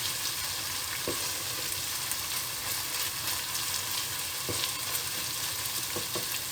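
Tomato and pepper paste fries in a pot, a dense, steady sizzle that stays loud and close throughout, with a few faint scrapes of stirring and no talking.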